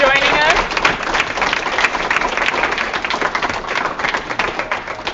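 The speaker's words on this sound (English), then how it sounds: "Can we get a round of applause for Marisa for joining us" A round of applause from an audience thanking a guest at the end of a talk, steady dense clapping that fills the whole stretch at an even loud level, with voices mixed in.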